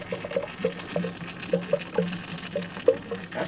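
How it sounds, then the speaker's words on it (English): Coolant sizzling and sputtering from a leaking bypass hose on a hot Range Rover engine, close by, with a string of short, irregular hissing pops over a low hum. "That's sizzling."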